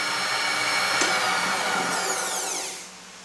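Woodturning tool cutting wood on a lathe, a steady close whirring scrape with a brief sharp catch midway, ending as the cut eases off and the sound drops.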